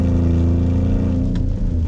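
A Porsche Cayenne V6 with broken exhaust flex sections drones loudly and steadily from close by, a raspy open-header rumble with a slight rise in revs near the end.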